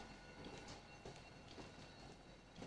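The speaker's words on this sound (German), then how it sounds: "Zug fährt ein." A train rolls into a German station platform, with a steady rumbling roar and rhythmic clickety-clack of wheels on rails, heard from nearby without any voices.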